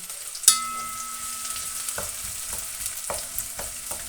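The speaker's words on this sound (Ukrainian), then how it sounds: "Ми додаємо цибульку і підсмажуємо до золотава цибульку" Onion frying in hot oil in a pan for mushroom risotto, a steady close sizzle with occasional clicks and knocks of stirring, no voices.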